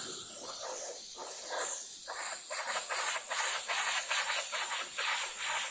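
Spray gun laying down a very thin tack coat, a loud steady hiss pulsing with each pass, close and continuous with no voices.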